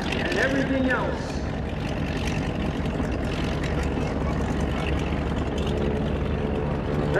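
A Super Stearman biplane, a former Navy primary trainer, performs rolls at the 2017 Greenwood Lake Airshow; its engine drones steadily in the distance beneath continuous announcer commentary.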